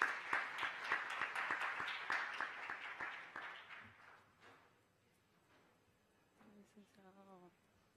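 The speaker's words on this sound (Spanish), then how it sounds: "Les damos un aplauso a los que llegan al escenario" An audience at a 2015 conference on restructuring and insolvency applauds as speakers arrive on stage, a dense burst of clapping for about four seconds that fades into near silence, with a faint voice near the end.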